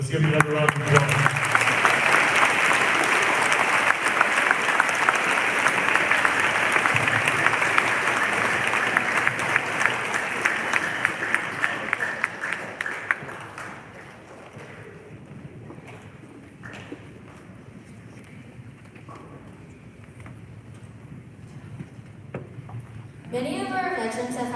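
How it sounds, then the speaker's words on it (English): Audience at a school Veterans Day program applauding, dense steady clapping for about thirteen seconds that then fades to quieter room noise with a voice speaking, before a brief loud burst near the end. "Let's give him another round of applause."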